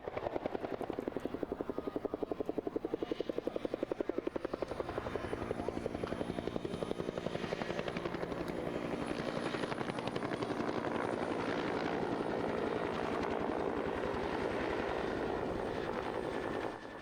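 Steady rapid chopping of an AB212 police helicopter's rotor blades with a droning engine whine at an airshow, loud and continuous, as if heard from nearby.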